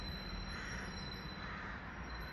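Crows or ravens cawing outdoors near the Vogelwarte in Lucerne, Switzerland, their calls blending into a steady, dense wash of ambient noise with no clear separate caws standing out.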